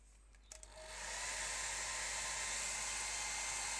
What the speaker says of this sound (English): Let me get the hairdryer on it